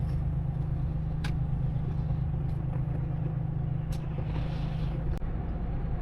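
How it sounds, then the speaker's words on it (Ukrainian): A truck with a red trailer passes in the oncoming lane, heard from inside a moving truck cab over a steady low engine drone, with the rush of the passing vehicle rising and fading over a few seconds. "Зараз буде їхати колега навпроти з таким же червоним причіп"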